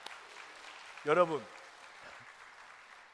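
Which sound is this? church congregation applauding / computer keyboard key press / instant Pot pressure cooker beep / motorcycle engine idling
church congregation applauding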